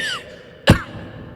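A voice imitates an elderly man with tuberculosis coughing at night on a hospital ventilator, producing one sharp, harsh cough burst that rises out of a quiet background.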